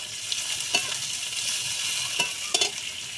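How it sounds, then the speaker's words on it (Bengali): Sliced onions and slit green chilies sizzle in a pan of hot oil with a steady hiss, broken by a few sharp stirring scrapes and clatters. "পেঁয়াজগুলো লাল লাল করে ভেজে নেব"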